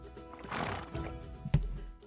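A horse neighs loudly and close up in the video game Kingdom Come: Deliverance II, then hooves clop and thud against a quiet ambient background.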